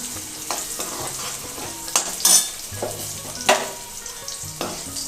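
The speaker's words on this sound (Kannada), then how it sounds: "ತುಪ್ಪದ ಅವಲಕ್ಕಿಗೆ ಬೇಕಾಗಿರುವಂಥ ತುಪ್ಪದ ಒಗ್ಗರಣೆ ರೆಡಿ ಆಗ್ತಾಯಿದೆ" Ghee tempering for tuppada avalakki sizzles and crackles steadily in a pan, with a few sharper spits and bursts and soft stirring scrapes, close and alone with no talk.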